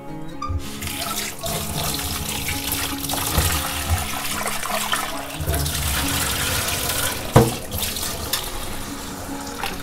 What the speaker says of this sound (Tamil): ஒரு 5-6 தண்ணி ஊற்றி கழுவணும்.